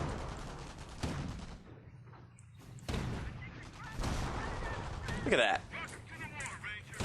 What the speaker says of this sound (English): Watch that enemy fire, boys!